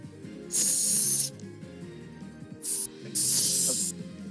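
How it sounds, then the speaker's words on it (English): An aerosol can sprays into an air conditioner in three short hissing bursts, close and fairly loud, over a low background murmur. "that's me spraying into my air conditioner"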